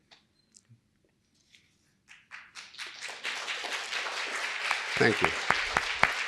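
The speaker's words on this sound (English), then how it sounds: "He certainly deserves a round of applause." An audience at an author presentation begins clapping with a few scattered claps, then swells into full, steady applause that holds to the end. A voice briefly speaks at the start.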